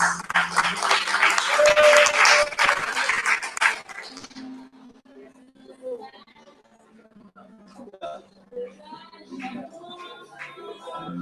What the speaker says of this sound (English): Eli, one applause for him, please.